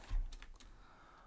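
Someone types a short name on a computer keyboard, a few soft close keystrokes clustered near the start and then fading to quiet room tone.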